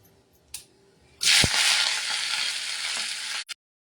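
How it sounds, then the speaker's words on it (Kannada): Chopped palak spinach leaves hit a hot pan and fry with a loud, close, continuous sizzle for about two seconds before it cuts off. "ಸ್ವಲ್ಪ ಹಸಿ ವಾಸನೆ ಹೋಗೋ ತನಕ ಈ ಪಾಲಕ್ ಸೊಪ್ಪನ್ನ ಹುರ್ಕೋಬೇಕು"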